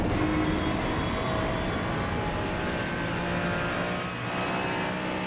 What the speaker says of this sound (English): Little flutter of the gas as he comes through that left-hander.